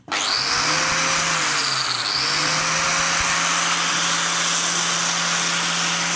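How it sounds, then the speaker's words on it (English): A bench grinder runs steadily at full speed while an alloy casing piece is held for grinding, a loud continuous electric whine with a brief dip in pitch near the start. "turn on your bench grinder"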